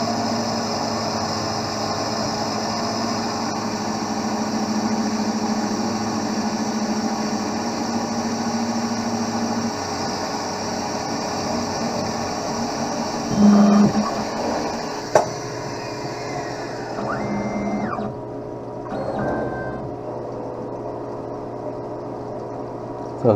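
A lens drilling machine bores through an eyeglass lens with a steady mechanical whir and hum, its tone shifting and briefly surging midway as the chuck moves to widen the hole, then winding down near the end.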